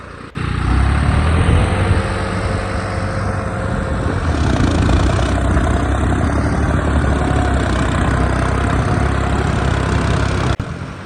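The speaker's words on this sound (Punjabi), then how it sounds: "ਜਦੋਂ ਕਲਚ ਨੱਪਾਂਗੇ ਆਪਾਂ ਤੇ ਯਕਦਮ ਟਰੈਕਟਰ ਖੜੂਗਾ" A tractor engine idles steadily with the clutch pressed down, a loud, continuous low rumble that holds nearly unchanged from start to finish, close by and with no talk over it.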